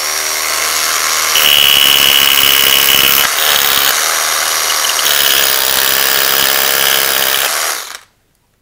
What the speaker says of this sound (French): Donc perforateur, mèche à béton.